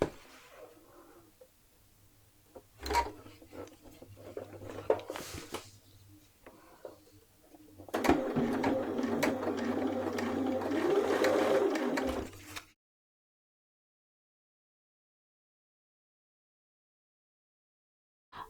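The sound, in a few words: sewing machine stitching around dress neckline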